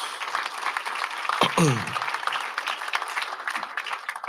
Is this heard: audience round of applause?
yes